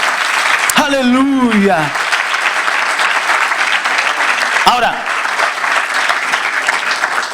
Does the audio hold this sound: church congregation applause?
yes